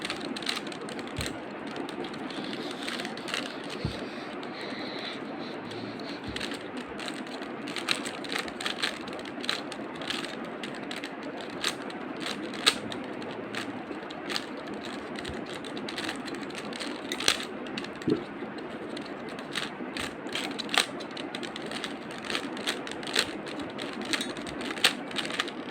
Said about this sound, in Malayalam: ഞാൻ ഈ ക്യൂബ് ഒന്ന് പെട്ടെന്ന് സോൾവ് ചെയ്യാൻ പോവുകയാണ്